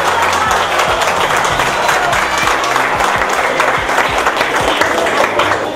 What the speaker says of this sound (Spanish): Doctor, lo recibimos con un fuerte aplauso.